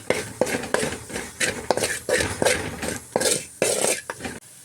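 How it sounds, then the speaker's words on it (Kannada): Turmeric being stirred into onion masala frying in a pan for a soya gravy, with a spoon repeatedly scraping and clinking against the pan in an uneven rhythm over a soft background sizzle, close up and with no talking. "ಅರಿಶಿನ ಹಾಕ್ಕೊಂಡು ಮಿಕ್ಸ್ ಮಾಡ್ಕೊಳ್ತಾ ಇದ್ದೀನಿ"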